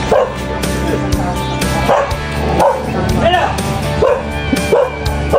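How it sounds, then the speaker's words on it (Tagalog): A dog barks repeatedly in loud, close bursts with some yipping and whimpering, mixed with people talking nearby. "Siyempre, may aso."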